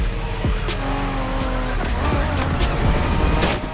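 A Honda NSX in The Crew Motorfest video game races hard with engine revs rising and falling, repeated gear shifts and tire squeal through the corners, a loud, continuous in-car roar.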